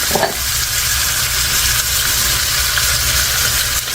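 Green onions and tomatoes cook in a skillet with a loud, steady frying sizzle and hiss filling the whole moment, close up and without a break; no voices.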